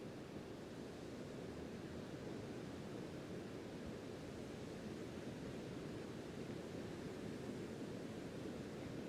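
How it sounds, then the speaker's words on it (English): Soft, steady wash of quiet ocean waves behind an outdoor yoga class, a constant distant surf hiss with slight breezy texture, faint and unbroken with no voices. "We're listening to the quiet ocean behind us, feeling the breeze across our body."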